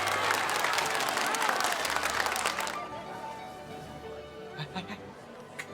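Wedding guests burst into loud, dense applause for the bride and groom at the ceremony, which cuts off after about three seconds and leaves a quieter room with faint voices and a few soft thumps.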